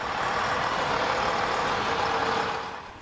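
A Budapest sightseeing bus rumbles steadily at close range, its engine drone loud and continuous before easing off at the end.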